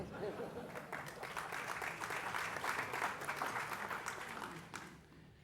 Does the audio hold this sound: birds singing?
no